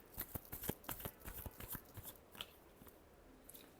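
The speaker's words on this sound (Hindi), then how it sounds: "चलिए देखते हैं। Last shuffle" A deck of tarot cards being shuffled, a quick run of soft, close riffling flutters that slows and thins toward the end, with no voice over it.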